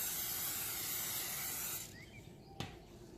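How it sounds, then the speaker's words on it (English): A continuous hiss of an oil spray can held close over chicken wings in an air fryer, lasting nearly two seconds before cutting off, then a single light tap in the quiet. "Now spray the oil on the top"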